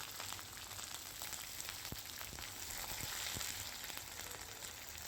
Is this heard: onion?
yes